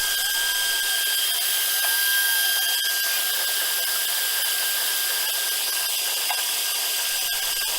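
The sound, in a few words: machine carving scoring numbers into wooden cribbage board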